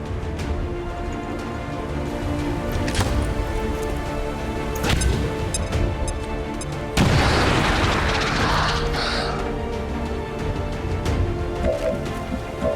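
A large grenade bursts in the turn-based strategy game XCOM 2, a sudden loud blast about two-thirds of the way through followed by a crackling, debris-like wash, over a steady game ambience with a few earlier sharp hits.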